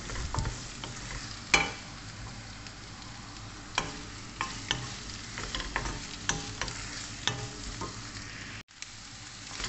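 Chicken sautéing for sinigang is stirred in a pot: a steady sizzle runs throughout, broken by repeated sharp scrapes and knocks of the utensil against the pot, close and fairly loud, with no voices.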